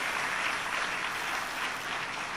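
A seated audience at a devotional discourse breaks into steady, dense hand clapping, a continuous crowd of applause with no voices over it.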